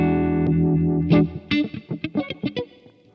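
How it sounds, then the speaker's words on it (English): Electric guitar played through an MXR Uni-Vibe pedal, a sustained warbling chord followed by a run of quick picked notes, loud and close, with swirling, chorus-like modulation and slight grit. "As soon as I step on my phaser / chorus / Uni-Vibe"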